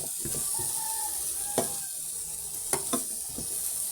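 Corned beef with potatoes and onions fries in a pan, giving a steady close sizzle broken by several sharp clacks and scrapes of a utensil stirring against the pan.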